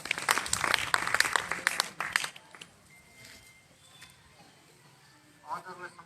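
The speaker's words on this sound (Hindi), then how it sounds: "आइए जोरदार तालियां रवि भाई के लिए बजाएं" Enthusiastic applause from an audience at a school event honoring meritorious students, given for Ravi: dense loud clapping for about two seconds, then quieter room noise with a brief burst of sound near the end.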